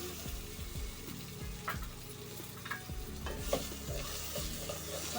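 Onions and tomatoes cooking in a pan for a potato kurma served with chapati, a steady close sizzle with repeated scraping stirs and small knocks of a spoon throughout, no voices.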